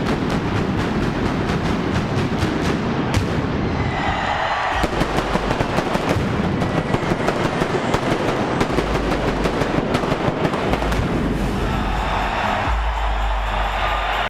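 Fireworks go off at a UFC event, a dense, continuous run of loud cracks and booming bursts that keeps up without pause.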